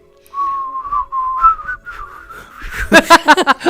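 One person whistles a short, wavering tune of a few held notes, then breaks off into laughter.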